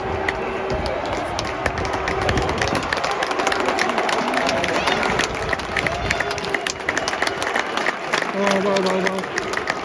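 A crowd at an FA Sunday Cup football match applauds the winning team on a cold, windy day in Stoke. Scattered clapping runs under wind noise and nearby talk.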